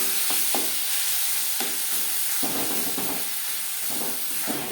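Carrot and sugar laddu mixture is stirred in a pan, a steady hiss with repeated scraping strokes of the spoon, close and alone with no talk.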